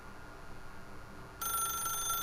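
Faint room tone gives way to a telephone in The Stanley Parable video game ringing loudly with a bright, steady electronic bell tone.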